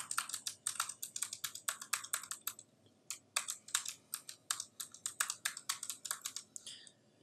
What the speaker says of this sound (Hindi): आपने यहाँ पे अपनी ईमेल टाइप कर देनी है